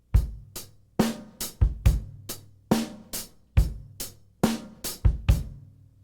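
A drum kit plays an eighth-note rock beat, with punchy kick and snare hits and ringing cymbals in a steady pattern, close and alone.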